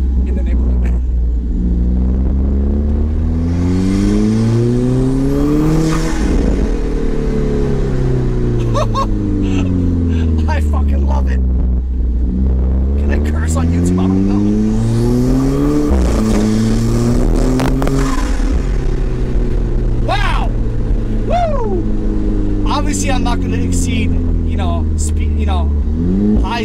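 An Alfa Romeo 4C fitted with a cold air intake accelerates hard through the gears, its loud engine note climbing in repeated sweeps broken by sharp shifts, then settling into a lower rumble.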